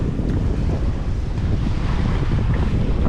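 Wind buffets the microphone aboard a sailboat while waves wash against the hull, a loud, continuous rushing roar with no voices.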